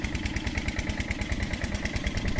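A self-propelled irrigation pump engine in the Egyptian countryside runs nearby, loud and steady, with a fast, even chugging pulse and mechanical clatter throughout.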